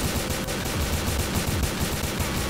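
Rapid continuous gunfire from a weapon in Garry's Mod, a steady close automatic stream that fills the whole short stretch at moderate level with no talk over it.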